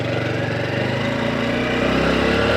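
A Honda Hunter Cub C125 motorcycle engine accelerates in first gear, loud and close, its steady droning note climbing as revs build throughout.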